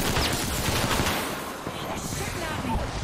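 Gunfire in Apex Legends, a dense series of loud, close automatic shots with clattering weapon sounds, a voice speaking faintly underneath.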